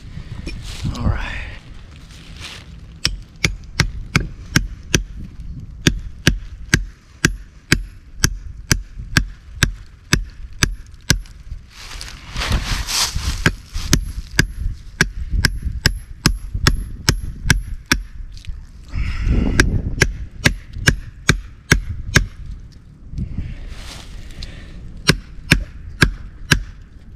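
Repeated sharp strikes hammering a STIHL 2-in-1 chainsaw filing guide into a tree, a steady series of close, loud knocks with brief pauses and bursts of louder rustle between runs.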